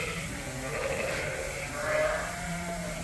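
Sheep bleat nearby as ewes are rounded up on a farm, a few wavering calls overlapping above a steady background of shuffling and ambient noise.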